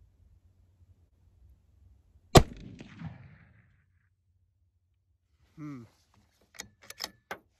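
A single sharp gunshot from a Bergara B-14 HMR rifle cracks out loud and close, with a brief ringing tail, followed after a pause by faint clicks and rattles of handling.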